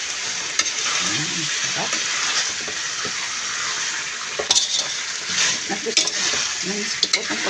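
Chicken pieces go into a pan of curry, which sizzles steadily under repeated stirring scrapes and clinks of utensil against pan. A short spoken word comes in near the end.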